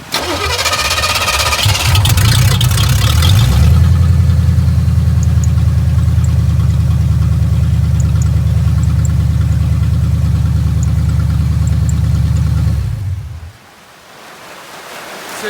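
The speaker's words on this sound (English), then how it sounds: "you can start your car to make sure that the fluid is flowing through" A car engine cranks and catches, then settles into a steady, loud idle that runs for about ten seconds before cutting off, with no talking over it.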